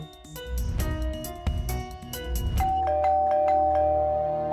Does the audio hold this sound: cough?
no